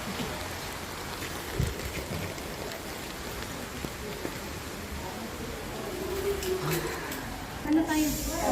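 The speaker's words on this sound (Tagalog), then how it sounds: "naulan talaga siya" Steady heavy rain falls in a Singapore botanic garden, a dense continuous hiss of drops on surfaces throughout, with a few louder bumps and a brief voice near the end.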